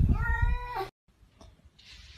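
A single loud, drawn-out cat meow up close, followed by a short pause and quieter rustling.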